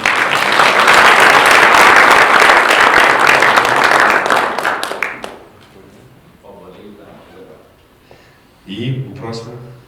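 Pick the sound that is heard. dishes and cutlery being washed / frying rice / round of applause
round of applause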